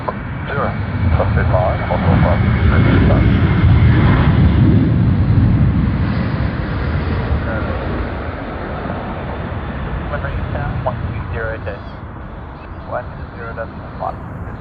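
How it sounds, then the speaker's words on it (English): A Qantas Airbus A330 jet takes off at Sydney Airport, giving a loud, sustained broadband engine roar that peaks early and slowly fades as it departs, with radio talk and voices heard faintly underneath. "And Qantas A330, they've already begun their takeoff roll."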